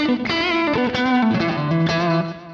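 An electric guitar plays a quick, loud melodic line through a BOSS ME-90 with 110-millisecond slapback delay and reverb, giving a thick, doubled tone trailing each note.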